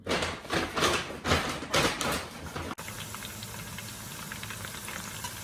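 Fresh garlic frying in a pan for a Lao salad, a steady crackling sizzle close by, with louder stirring bursts early on before settling into an even hiss.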